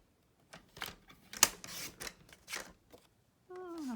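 Scissors snip through paper card in a few short crisp cuts, close and fairly quiet, with brief rustling between strokes, ending in a faint tonal squeak.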